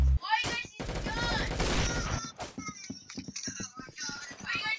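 Rapid gunfire crackles in Roblox Arsenal, with bursts of shots mixed under excited voices and game sounds.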